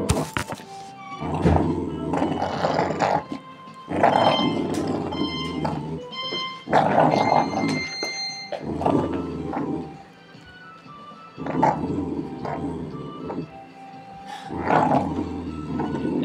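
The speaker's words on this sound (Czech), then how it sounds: "To je American Bully standard, Merle." An American Bully standard merle dog lets out repeated bursts of deep barking and rough growling, loud and close, in several separate outbursts with short pauses between them.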